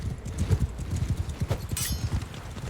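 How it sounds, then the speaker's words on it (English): Horses galloping in Mount and Blade Bannerlord, a rapid stream of hoof clip-clops drumming steadily throughout, fairly close, with battle noise and a brief shout mixed in. "Look at these horses."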